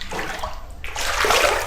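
Flood water inside a house in Kampung Sampun, Kota Samarahan, Sarawak, sloshing and splashing close by, with irregular gurgles building to a steady rushing wash.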